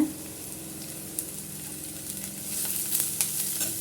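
Onion sautéing in a pan for veg noodles, a soft steady sizzle with occasional light stirring clicks that grows a little brighter and louder toward the end, no voices.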